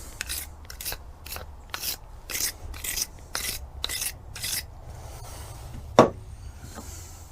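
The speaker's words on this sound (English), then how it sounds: "Brush this one off a little bit." A Yamaha 4hp outboard lower unit part gets brushed off with about a dozen short, regular scrubbing strokes, close and fairly loud. One sharp knock near the end stands out, and no one talks.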